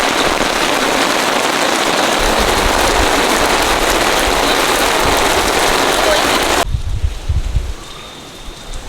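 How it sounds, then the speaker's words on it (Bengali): Dense, loud rain pours steadily for several seconds, then cuts off to quieter surroundings with some low rumbling thumps. "বৃষ্টি হচ্ছে সাংঘাতিক"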